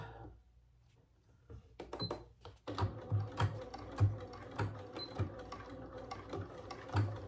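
A sewing machine stitches a fabric case for bag hardware in short bursts of rapid mechanical clatter, starting after a quiet moment and running in uneven stretches close by.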